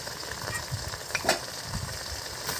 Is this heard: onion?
yes